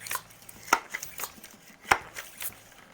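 Sharp mechanical clacks from pumping a resealed Sheridan Blue Streak air rifle, a few separate strokes spread irregularly over a few seconds, close and fairly loud with quiet gaps between.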